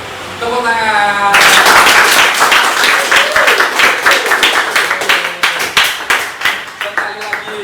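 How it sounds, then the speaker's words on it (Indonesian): A group claps hands together in a classroom-style game, loud steady clapping that breaks into a rhythmic beat toward the end, with a voice speaking briefly before it starts. "Tepuk tangan"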